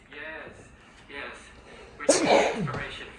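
A single sharp, loud sneeze bursts out in the second half, following speech from a couple of people talking nearby.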